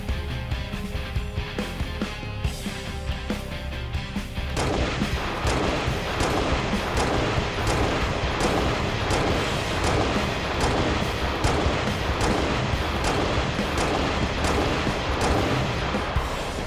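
Rapid, dense gunfire effect for a Halo Reach DMR rifle, loud repeated booming shots in quick succession with no speech.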